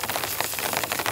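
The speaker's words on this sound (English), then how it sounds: "Also, a bit of rain's come back as well." Steady patter of rain on an ultralight tent, a dense hiss of drops close by, with no voices.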